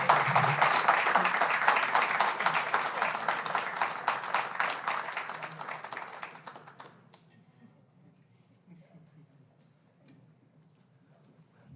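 Audience applause after a creative writing reading by Natasha Wimmer: a dense, steady crowd clapping that holds for about six seconds, then thins and dies away into a quiet room with faint murmurs.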